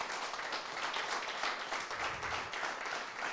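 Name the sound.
congregation applauding in church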